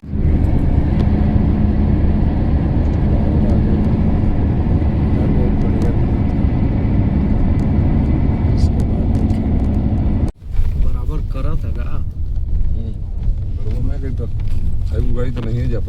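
A loaded dumper truck rolls past on a village road with a loud, heavy engine rumble that fills most of the moment before cutting off abruptly, followed by quieter background sounds and faint voices.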